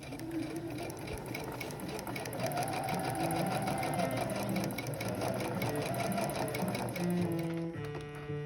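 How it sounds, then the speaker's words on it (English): A sewing machine stitches the center back seam of a pea coat's lining, running a fast, even needle rhythm close up and without a break for the whole stretch. "I believe this is the center back seam of the lining."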